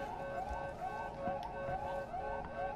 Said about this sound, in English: So with all these sirens going on